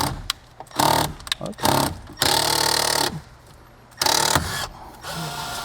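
Power tool loosening 10mm bolts on a Toyota GR86, several loud whirring bursts of a drill or impact driver separated by short pauses, close by, with a brief spoken word.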